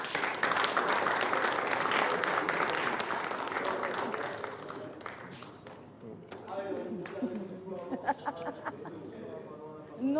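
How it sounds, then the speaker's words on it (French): An audience applauds a slam poet at an after-work show, a dense burst of clapping that thins out over several seconds while a voice speaks through the fading claps. "Lui, c'est Mr. No, qu'on applaudit, s'il vous plaît."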